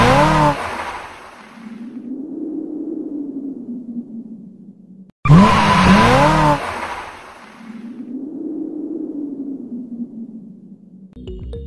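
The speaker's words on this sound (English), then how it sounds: "an amazing car drift logo reveal intro for Filmora users" Car drift tire squeal used as a logo reveal intro effect, heard as two loud screeching bursts, each swelling into a long sweeping whine before a sudden cut, the second starting near the middle, with a third cut off at the end.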